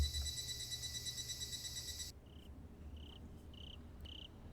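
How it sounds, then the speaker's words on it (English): Crickets chirping in a video game scene, faint short chirps repeating in a loose rhythm after a pulsing, buzzing tone cuts off partway through. "I hear crickets."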